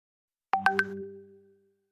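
A phone ringtone sounds during a Zoom meeting: three quick bright chime notes in a rising pattern, then a ringing decay lasting about a second, clear and alone.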